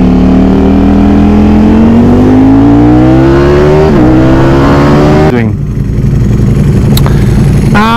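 A Ducati Streetfighter motorcycle engine revs loud and close, its pitch climbing steadily through a long pull, dropping briefly at a shift, then climbing again.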